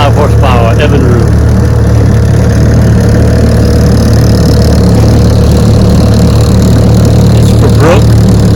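A restored 1968 Evinrude 9.5 horsepower outboard runs out on a lake, its loud, steady motor drone held close throughout with a couple of brief rising whines.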